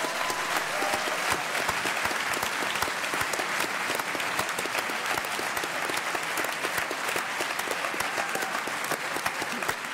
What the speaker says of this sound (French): applaudissons-nous peut-être un petit peu